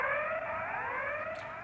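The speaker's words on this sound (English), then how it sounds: "the criticality alarm sound is whoop, whoop, whoop" Sellafield nuclear complex criticality alarm played as a recorded telephone announcement, a continuous harmonic electronic tone sliding slightly in pitch, heard alone with no voices.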